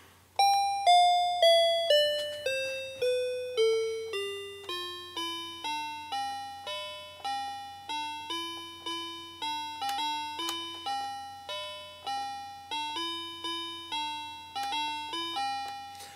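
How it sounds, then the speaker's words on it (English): A My Song Maker toy plays its built-in demo melody unmodified before circuit bending, giving a chiming, bell-like electronic tune of sustained tones. It opens with a descending run, then settles into a repeating pattern, clear and steady over a low hum, with no talking. "So this is just a random toy called My Song Maker."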